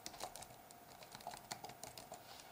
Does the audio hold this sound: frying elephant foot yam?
no